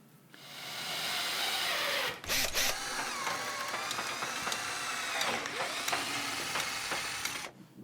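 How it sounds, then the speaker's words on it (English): A power drill drives screws into glued, clamped timber while building a wooden balance board, a steady close whirring that runs almost the whole time with a brief stop and restart partway through. "Remember to apply wood glue to the mating surfaces and clamp into position and screw to fasten"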